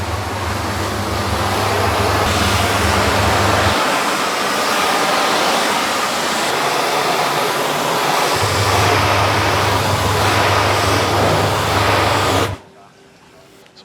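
A garden hose sprays water steadily over a car during a wash, a loud continuous hiss and splatter close by that runs for about twelve seconds and then stops abruptly, with faint background sound remaining.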